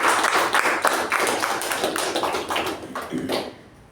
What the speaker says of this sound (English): So let's give a good round of applause to the speaker and the